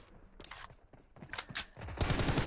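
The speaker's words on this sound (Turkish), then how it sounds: "Oy Tommy Gun." Rapid bursts of Tommy Gun automatic fire in PUBG Mobile, several clustered volleys growing louder and denser toward the end, with no talk over them.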